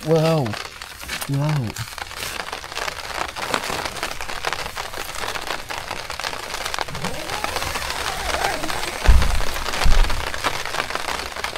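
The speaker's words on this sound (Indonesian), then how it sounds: "Ya akhirnya hujan, mantap teman-teman, biar nambah seger lah ya." Rain falling steadily on a mountain hiking trail, a broad continuous patter with crinkling, crackling hits that lasts throughout, plus a louder thud near the end and a voice early on.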